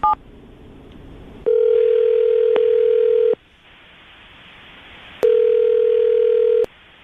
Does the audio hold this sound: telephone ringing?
yes